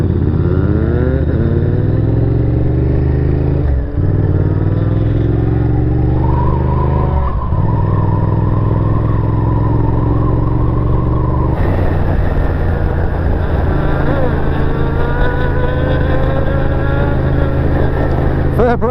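A sport motorcycle revs hard at a bike night, its engine note climbing and holding loud and close for a long stretch, like the roar of a wheelie, with an engine drone continuing throughout.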